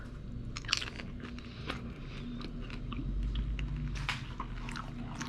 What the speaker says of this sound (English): let's get a bite